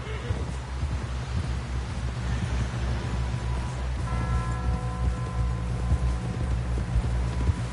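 Horse hooves clip-clop in Red Dead Redemption 2, a continuous rapid drumming of hoofbeats over a low rumble, with a faint tone entering partway through.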